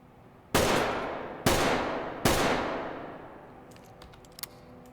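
Three separate semi-automatic shots from a 7.62x51 rifle in the video game Ready Or Not, each a loud sharp crack with a long decaying tail, spaced about a second apart, followed by faint metallic clinks.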